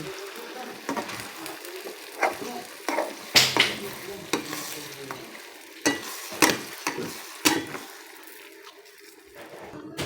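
Spaghetti sauce simmers in a pan while a spoon stirs it in irregular scraping bursts over a soft, steady sizzle, fairly quiet and close.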